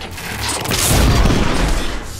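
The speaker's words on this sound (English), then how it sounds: "which requires you to kill 3 enemies with a single explosion" A deep, rumbling blast from a science weapon in the video game The Order: 1886 swells and roars for about two seconds, loud and close, with no voices.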